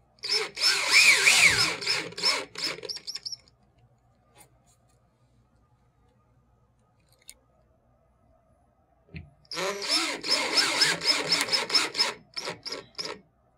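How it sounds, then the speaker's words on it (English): A power drill drives self-tapping anchors into drywall in two loud, close bursts of whirring and grinding, separated by several seconds of near silence. "It actually pierces the drywall, drives itself in, and then grabs itself with the flange on the end here."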